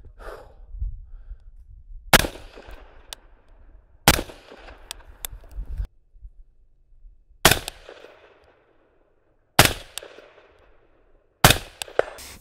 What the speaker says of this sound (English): on a short-barreled rifle like the Mark 18, any suppressor is gonna struggle. The Surefire SOCOM does a pretty good job.